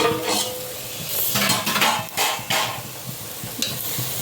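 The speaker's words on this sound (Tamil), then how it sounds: "கொஞ்ச நேரம் பொரியட்டும்." Ingredients for avarai kulambu fry in oil in a pan while a spoon stirs and scrapes against the metal, producing a bright sizzle and intermittent clinks. No one talks.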